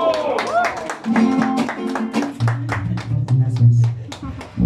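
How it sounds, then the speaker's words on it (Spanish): Guests at a birthday party celebration with a mariachi band clap in bursts of applause, mixed with voices and sustained sung or played tones throughout. "¡Un aplauso!"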